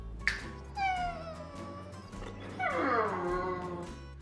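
A dog at a custom car garage whines and whimpers in rising and falling cries, close and fairly loud, in two long bursts with a brief pause between.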